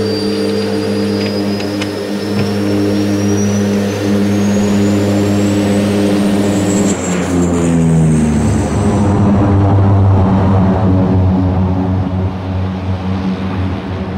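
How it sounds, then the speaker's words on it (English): A helicopter approaches with a loud, steady rotor drone and layered engine hum that shifts in pitch as it draws nearer, with no voices. "There's a heli inbound to suit the area."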